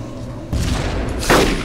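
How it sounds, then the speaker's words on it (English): A grenade going off in the DayZ video game, a deep booming blast that cuts in suddenly, then a second harsher burst follows, loud and close with no talk. "Here's a grenade for you"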